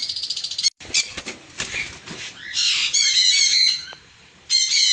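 Conure parrots squawk in loud, shrill bursts, close to the microphone, on a Kerala bird farm. The calls come repeatedly with brief gaps, with no talk over them.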